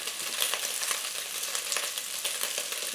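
Chopped onion tossed into a hot pan for beef goulash, frying with a steady, bright crackling sizzle that stays close and loud throughout, with no voices over it.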